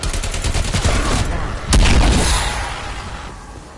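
AK rifle fire in a zombie video game: a rapid burst of loud, close automatic shots, then one heavier blast that rings out and slowly fades.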